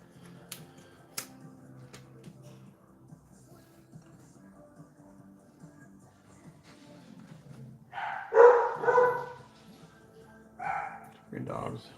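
Three dogs break into sharp, fairly loud barking bursts near the end, after a long stretch of quiet room sound with a few small clicks.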